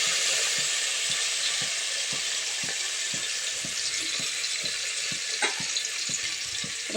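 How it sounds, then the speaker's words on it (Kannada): Chopped coriander leaves dropped into hot oil for a tempering, giving a bright hissing sizzle with regular soft taps of stirring, steady and close with no talking. "ಒಗ್ಗರಣೆ ಕೊತ್ತಂಬರಿ ಸೊಪ್ಪು ಹಾಕ್ತಾ ಇದ್ದೀವಿ"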